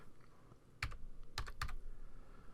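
A short burst of about four crisp keystrokes on a computer keyboard as a number is typed into Adobe Photoshop Elements, close and fairly quiet, with no talking.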